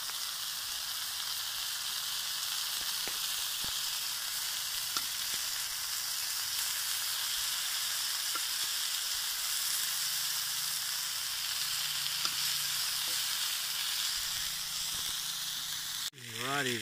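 Onion frying in a pan at a kayak camping spot, a steady close sizzle and hiss that runs throughout with faint clinks, ending in a brief sharp noise.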